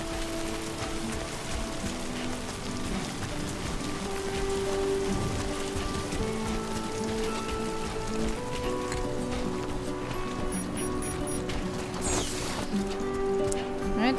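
Steady rain pours down in the video game Death Stranding 2, a dense, continuous patter with occasional splashes and faint footsteps mixed in, no talking heard.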